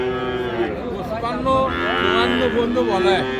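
Cross Friesian heifer calves and other cattle at the Ambari livestock market in Dinajpur moo nearby, a drawn-out lowing call carrying over people talking and market chatter.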